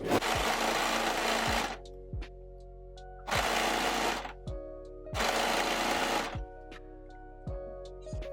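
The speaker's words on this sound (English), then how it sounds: "You're just going to sew straight around the bottom." A sewing machine stitches along the bottom edge of a fabric skirt in three loud, close whirring bursts of about one and a half seconds each, separated by quiet pauses with faint clicks and knocks.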